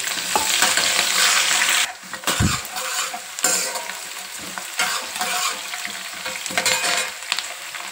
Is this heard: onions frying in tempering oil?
yes